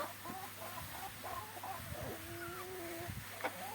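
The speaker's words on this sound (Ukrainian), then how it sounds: "Зима, мороз, кури їдять сніг." Several chickens clucking and murmuring close by in winter frost and snow, soft scattered calls overlapping, with a faint hum behind them.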